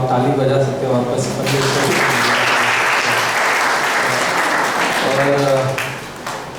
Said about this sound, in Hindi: तो आप ताली बजा सकते हो वापस।